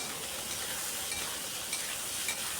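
Coarsely chopped onions and a few garlic cloves fry in a pan for a spicy chicken gravy, giving a steady, dense sizzle with no talking.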